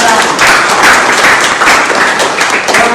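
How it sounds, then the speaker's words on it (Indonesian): A classroom of students claps for a classmate, loud and close, a dense burst of hand claps with a slightly rhythmic pulse running steadily for about three seconds. "tepuk tangan untuk teman kalian"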